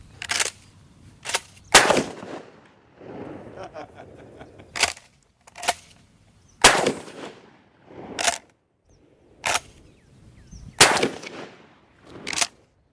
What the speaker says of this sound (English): So the logical thing to do with something you can't use is shoot it with a shotgun to see what happens.